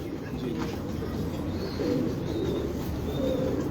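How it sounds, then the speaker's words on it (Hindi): A pure Ali wala pigeon held in hand in a loft, giving low, continuous cooing close by, with faint chirps from other birds in the background. "ये एक बड़ा नायाब कबूतर मेरे हाथ में"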